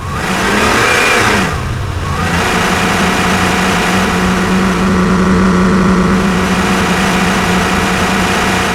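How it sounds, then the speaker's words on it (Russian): A car engine revving hard, captured from both the engine bay and the exhaust side: a loud, continuous roar that dips briefly near the start, then holds a strong, steady drone. "каждый звук записан как со стороны двигателя, так и со стороны трубы"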